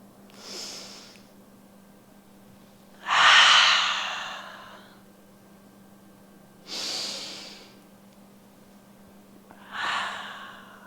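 Slow yoga breaths during a flowing stretch, four unhurried inhales and exhales spaced a few seconds apart, soft and airy with a steady low hum underneath, the second breath the strongest.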